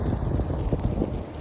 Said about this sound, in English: It's cold out here and it's windy.